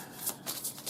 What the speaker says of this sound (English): let's get an oracle card, another oracle card for Johnny and how he's feeling now